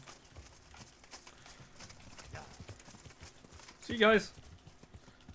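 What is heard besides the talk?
horse hooves in the video game Kingdom Come Deliverance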